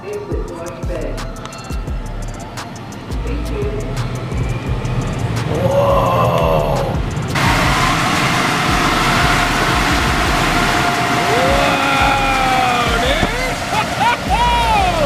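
An automatic car wash runs around a car with heavy, sloshing water spray and mechanical rumbling, growing louder and denser midway, while people inside talk and exclaim.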